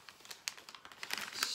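Paper wrapping around a gift parcel crinkles and rustles as it is opened by hand, a close, busy run of crackles and small tears for the whole stretch, with no talking.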